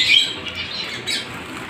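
Pet lovebirds or budgerigars give a short, sharp squawk close by, followed by a softer second call, with a faint background hum.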